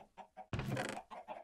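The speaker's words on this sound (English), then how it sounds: "Those chickens are so annoyingly loud." Chickens clucking in the Minecraft video game, a few short quiet clucks then a louder, longer squawk followed by more soft clucks, with no talk.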